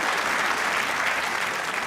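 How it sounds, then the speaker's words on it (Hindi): A television studio audience breaks into loud, sustained applause, dense clapping from a crowd filling the room with no pause. "ताली होनी चाहिए"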